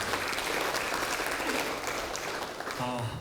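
Sustained applause fills a party workshop of National Assembly members, a dense clatter of many hands clapping continuously throughout.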